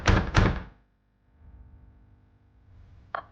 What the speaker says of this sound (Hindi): आधी रात को जब आर्यन और उसकी मां सो रहे थे, तब उनके दरवाजे पे दस्तक होती है।